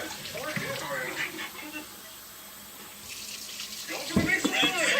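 Water is poured out of a plastic cup into a sink, a soft splashing trickle that swells near the end, with voices talking over it.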